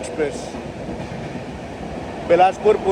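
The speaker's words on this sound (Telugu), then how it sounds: "ఎక్స్ప్రెస్ అయితే మన ట్రైన్ని ఓవర్టేక్ చేస్తుంది." Rail noise of an express train rolling along the tracks as it overtakes, with a steady rumble and a few brief squeals and clatters near the end.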